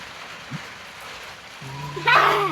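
Rain falls as a steady, faint hiss in the background, and a person starts talking near the end.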